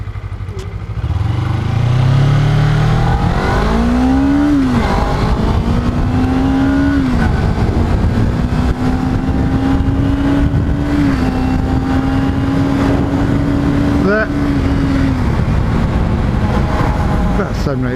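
A Suzuki GSX-R sport motorcycle accelerating hard from a standstill, its engine note climbing and then holding as a loud, sustained drone for most of the clip, close by.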